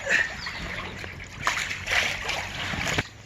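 Water splashes and sloshes in an Intex above ground pool as it is filled and the liner is lifted to smooth wrinkles; close, steady splashing with brief surges, no voices.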